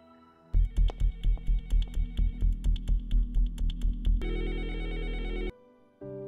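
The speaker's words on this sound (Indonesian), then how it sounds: "dia mendengar di kantornya ada telepon yang berdering sewaktu dia menelpon" An office telephone rings in a rapid, repeating electronic trill of short bursts, then shifts to a sustained tone before cutting off.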